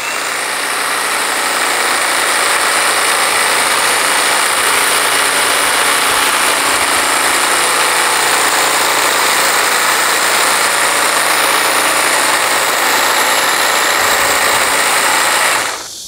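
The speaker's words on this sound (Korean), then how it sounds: "이번에는 연산홍을 또 한번 이 트리머로 작업을 해 볼게요." A Milwaukee QUIK LOK cordless hedge trimmer cuts through azalea shrubs in a garden, its loud, steady high-pitched motor whine running continuously up close before cutting off at the end.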